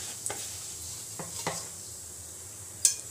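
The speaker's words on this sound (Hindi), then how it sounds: "जीरा डाल देती हूँ।" Cumin seeds dropped into hot oil give a soft, steady sizzle, with a few light clinks of a utensil against the pan and one sharp tap near the end.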